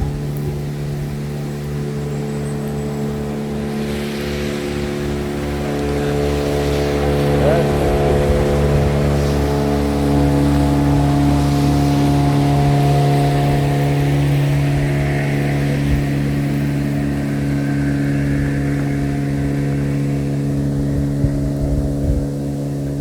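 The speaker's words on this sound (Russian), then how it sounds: "Вон моторка едет." An outboard motorboat drones past on open water, a steady low engine hum that swells and stays prominent through the middle before easing, heard from an outdoor cooking spot near the shore.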